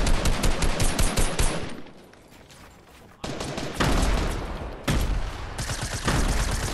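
Dense bursts of rapid automatic gunfire crackle through a video game firefight, loud and nearly continuous, dipping briefly into a quieter stretch before heavy volleys resume.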